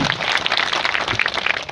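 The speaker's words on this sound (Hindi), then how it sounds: "एक बार जोरदार तालियां हो जाए।" Loud, dense applause from a crowd at a public event in Nagaur marking the Gandhi and Shastri birth anniversaries, steady clapping filling the whole moment without speech.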